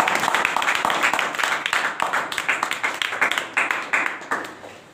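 An audience at a coaching center prize distribution claps for a first-prize student, a dense steady patter of many hands that thins out toward the end.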